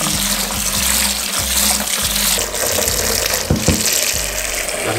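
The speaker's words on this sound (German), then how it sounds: "jetzt kann man hier warmes Wasser reinlaufen lassen. Also jetzt nie heiß, aber warm." Warm tap water runs steadily into a basin or bucket for hand washing a car in winter, a continuous close rushing flow with a few low bumps and knocks, no talking.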